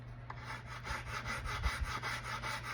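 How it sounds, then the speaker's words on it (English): Rhythmic back-and-forth rubbing of sandpaper on wood, about a dozen even strokes, close but fairly quiet, with a low steady hum underneath. "we're gonna start the sanding process"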